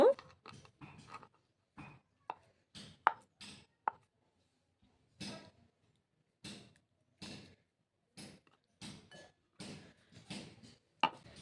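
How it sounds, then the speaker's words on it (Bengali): A knife cuts a block of paneer into pieces on a board, giving a run of sharp, separate chops with short pauses between them, close by and clear. "এইভাবে করে পিস পিস করে নেব"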